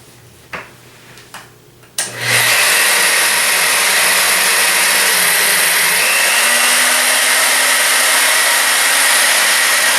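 A polishing tool with a 1500 grit Soma pad works a quartz surface, starting with a few sharp clicks and then settling into a loud, steady, hissing whir that runs without a break to the end.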